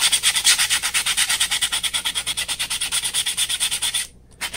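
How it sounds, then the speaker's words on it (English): A 3D printed PLA edge being sanded with 180 grit sandpaper, a steady rhythmic run of close, bright scratchy strokes about six per second, stopping briefly near the end before one more stroke. "I'll sand both edges on both pieces."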